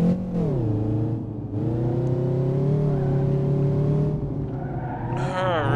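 Ibishu Kashira ZX 3.5 AWD car in BeamNG.drive pulling away after a clutch pop, engine revving loudly through rising and falling gears with a whining tone, a brief tire squeal near the end, with someone talking over it.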